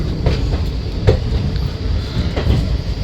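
The 04311 Yog Nagari Rishikesh Special, a summer special passenger train, rumbles steadily on its rails with a couple of louder clunks from the wheels and joints, heard from on board.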